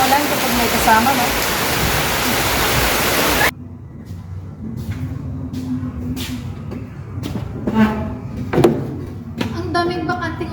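Heavy rain rushes loudly for a few seconds then cuts off abruptly, leaving quieter scattered taps, knocks and faint voices.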